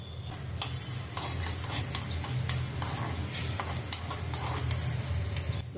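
Mustard seeds, cumin and urad dal fry in hot oil in a tempering pan, a steady crackling sizzle with quick tiny pops and light scraping of a spoon throughout, close and continuous.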